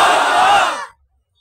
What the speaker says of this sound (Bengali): যতক্ষণ সবার মুখ থেকে না বের হবে এই তাকবীর চলবে আজকে